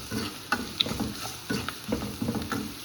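Garlic sautéing in a pan for a drumstick-leaf sambar, a soft crackling sizzle broken by regular spatula stirs and scrapes roughly every half second, fairly close and moderate in volume, with no talk.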